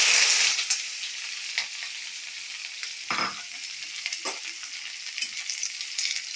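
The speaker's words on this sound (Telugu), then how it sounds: "ఇప్పుడు మనం బాండీలో నూనె కాగాక ఈ ముక్కలన్నీ వేసేసుకున్నాం." Onion pieces fry in hot oil in a kadai for a kadamba pachadi, a steady close bright sizzle with louder crackling bursts as the pieces are stirred, and no voices.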